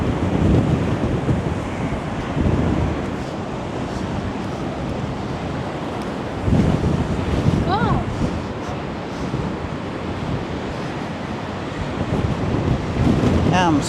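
High wind buffets the microphone along Blackpool promenade as rough sea waves crash and surge, a loud, continuous roar with rising swells and faint voices in the background.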